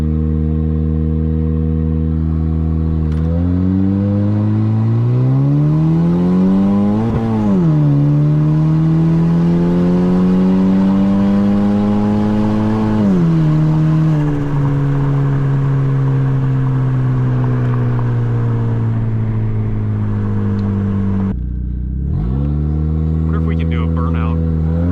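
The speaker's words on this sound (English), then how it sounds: "Just gonna do an actual launch." A turbocharged Honda Civic launches hard, its engine revving loudly and climbing through the gears with sharp shifts, then dropping off before revving up again near the end.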